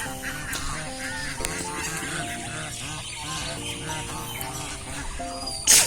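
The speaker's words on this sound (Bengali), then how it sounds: "তো রাজহাঁস কেমন হয় দেখ।" Geese on a school field, some with goslings, honk repeatedly at close range with loud, nasal calls over a steady outdoor background.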